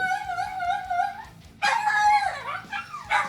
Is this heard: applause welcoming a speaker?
no